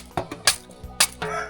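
Chickens clucking in a rural hill village, a few short, moderately loud bursts spaced irregularly with faint background noise and no talk.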